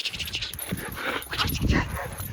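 A big dog whimpering and whining in short uneven bursts close by, with soft huffs and rustling between the cries and no talk over it.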